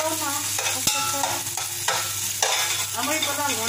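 Chicken sizzles and browns steadily in a hot pan for chicken soup while a utensil stirs and scrapes now and then, close up with no talking.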